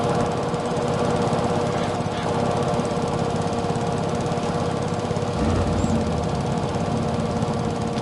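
A lawn mower engine in the video game Farming Simulator 22 runs continuously with a loud, rough, chugging drone that holds steady throughout.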